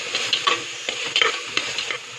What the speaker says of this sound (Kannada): 1-2-3 ನಿಮಿಷ ಹಸಿ ಸ್ಮೆಲ್ ಹೋಗೋ ತನಕ ಫ್ರೈ ಮಾಡೋಣ.